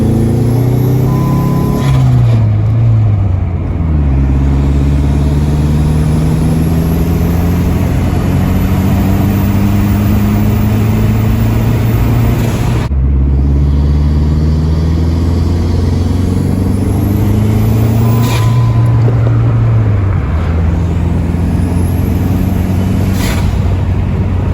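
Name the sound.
Dodge SRT4 car accelerating with new spark plugs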